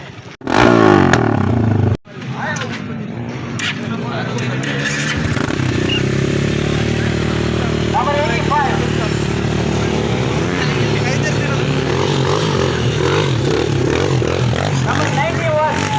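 An NS 200 motorcycle rides in a dirt bike race, its engine droning loud and steady under rough clatter and scraping, with a brief burst of louder noise near the start.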